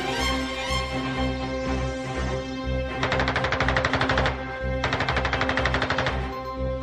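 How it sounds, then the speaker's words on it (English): A ShKAS machine gun on a Polikarpov fighter fires two sustained rapid bursts over a steady droning engine, loud and close, each burst lasting about a second and a half. "E-16 was armed with 2 Shkas machine guns."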